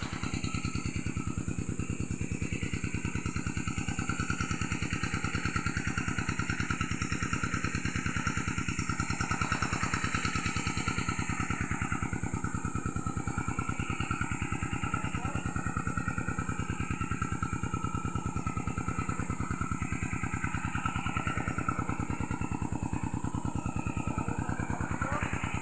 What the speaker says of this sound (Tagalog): So gagamitin natin ang compressor to.